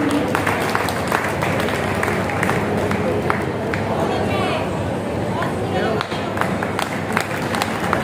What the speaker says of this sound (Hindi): आप लोग ताली बजाते रहिए